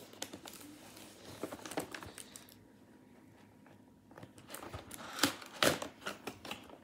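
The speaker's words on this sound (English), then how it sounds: "I am trying to unbox it." Packaging for a Bugha gaming keyboard is handled close up, with soft crinkles, taps and scraping clicks that grow into sharper bursts of tearing and rustling toward the end, quiet overall and with no talking.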